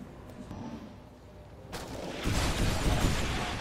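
A deep, rumbling explosion in XCOM 2 blows up a roof, bursting in after a quieter stretch, its roar sustained and heavy for the last couple of seconds.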